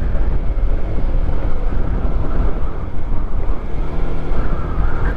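Loud, constant rumbling wind buffeting the microphone on a cold, muddy trail in Nueva Vizcaya, Philippines, a dense low roar with no pauses for several seconds.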